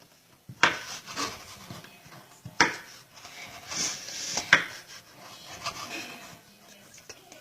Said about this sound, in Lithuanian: Dabar supjaustytus pomidorus ir agurkus susmulkinsime.